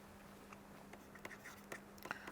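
Equations about normal distributions being written by hand, faint scratchy strokes and light taps of a pen over a quiet steady hum, with no speech.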